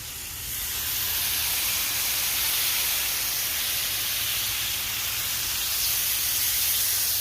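Venison slabs sizzling on a hot skillet: a steady, loud broadband hiss that starts within the first half second and holds evenly throughout, with a faint low hum beneath and no talking.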